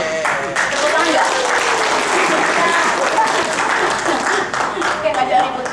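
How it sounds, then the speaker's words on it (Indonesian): An audience at a community meetup breaks into sustained, loud applause, dense clapping from many hands filling the room with voices mixed in. "Tepuk tangan. Tepuk tangan nggak?"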